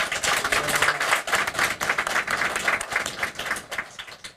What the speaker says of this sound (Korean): 우선 하나님께 영광의 박수를 한번 올리십시오.